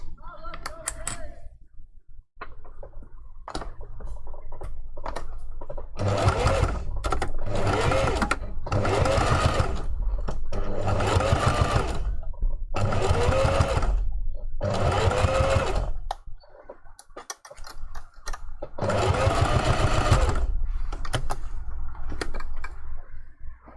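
A sewing machine stitches a seam on a puffy fursuit hand paw in repeated loud bursts of rapid whirring, stopping and starting several times with brief pauses between runs.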